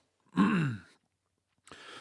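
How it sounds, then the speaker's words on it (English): A single throat clearing from a person during a livestream, one close, rough burst followed by a brief pause and a short breathy exhale. "Sorry, I was clearing my throat."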